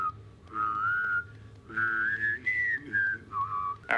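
Data whistles a tune, a clear wavering melody of several held and sliding notes with short pauses between phrases, close and alone without talk.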